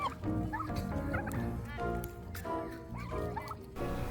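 Several turkeys gobble in loud, close, overlapping bursts of rattling calls, repeating throughout with faint background noise.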